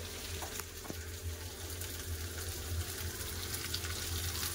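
Potatoes and ridge gourd fry in a pan, giving a steady, moderately loud sizzle with a running-water hiss throughout, and no voices.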